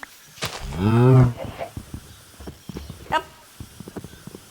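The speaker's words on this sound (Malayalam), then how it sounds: "പശു" A single long, low cow moo in a video game rises and falls over about a second, followed by faint background clatter and short knocks.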